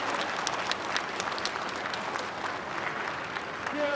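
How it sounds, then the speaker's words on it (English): Applause in a space mission control room during a Chinese spacewalk by Zhai Zhigang, a fairly faint, distant patter of many hands clapping with scattered sharper claps standing out. "And we can see loud applause from the control."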